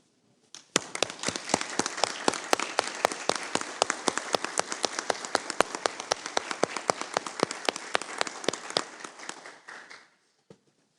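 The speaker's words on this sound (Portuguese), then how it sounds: "Vamos nos colocar em pé, então, para aplaudirmos os homenageados." A standing audience applauds honorees at a legislative session, dense sustained clapping with sharp rhythmic beats running through it for about ten seconds before stopping abruptly.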